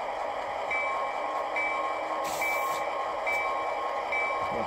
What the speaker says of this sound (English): Let's take a listen to the bell.